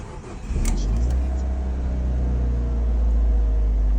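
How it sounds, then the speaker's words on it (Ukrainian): A car engine is started after its ignition is switched off and on. A short crank catches at once and the engine settles into a steady, deep idle hum close by. "Ми вимикаємо запалення, вмикаємо запалення і заводимо."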